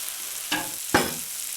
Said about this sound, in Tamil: இப்போது நல்லா மிக்ஸ் ஆகிற வரைக்கும் நல்லா கிளறி விட்டுக்கிட்டே இருங்க